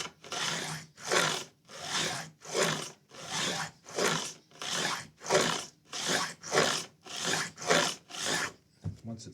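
A file rasps along the edge of a Les Paul guitar body to bevel it, about thirteen steady back-and-forth strokes, close and alone.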